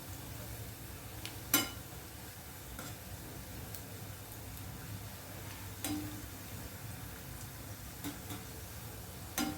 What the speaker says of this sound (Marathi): चांगली भजी अशी मस्त तेलामध्ये तळून घ्यायची